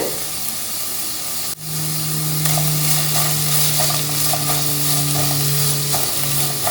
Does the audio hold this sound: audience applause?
no